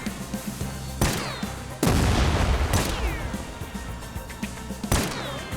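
Grenades blowing up in TimeSplitters Rewind, several loud booming blasts spaced a second or more apart, with gunfire crackle and debris rumble between them.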